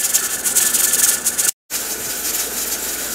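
A stovetop pressure canner processing turkey broth hisses steadily as its weight jiggles and rocks, close and loud, with a short break before the rattling resumes.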